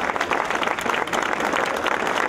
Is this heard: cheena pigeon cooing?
no